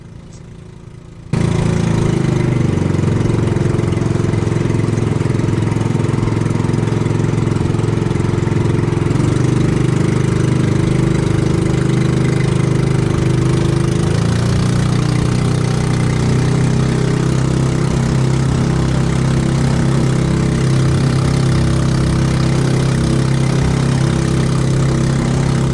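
A fishing boat at sea, chasing a school of skipjack tuna, runs its engine hard with a loud, steady, close droning roar that starts abruptly and holds unbroken throughout, with no talk over it.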